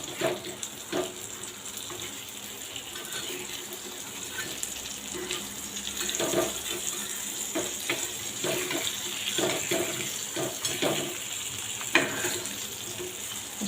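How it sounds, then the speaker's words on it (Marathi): Mackerel fish fries in oil in a pan, a soft continuous crackling sizzle with small pops, faint and steady throughout. "आता आपण मच्छी दुसऱ्या साईडने परतून घेऊया सावकाश परता घाई करू नका कारण तेल आहे तेल अंगावर उडू शकतं"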